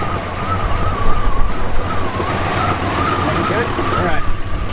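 A Jeep Wagoneer engine with a TorqueFlite 727 automatic transmission idles steadily, a close, continuous low rumble with a faint wavering whine on top.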